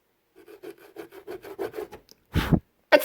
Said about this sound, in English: stop filing your nails on my countertop